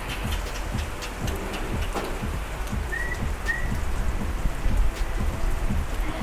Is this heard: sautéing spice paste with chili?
no